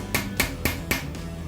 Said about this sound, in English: Probably even use a little hammer so just to